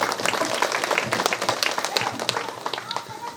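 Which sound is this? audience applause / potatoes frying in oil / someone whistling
audience applause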